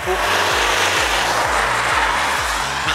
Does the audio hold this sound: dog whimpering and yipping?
no